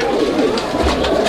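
Beauty fancy pigeons, a big-size breeding pair, coo in soft low repeated calls over a steady background hum, close by and continuous through the moment.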